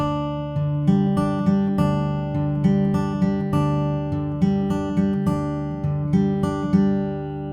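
An acoustic guitar fingerpicks a repeating pattern, the bass note fretted on the sixth string, with crisp plucked notes in a steady, even rhythm, close and clear with no voice.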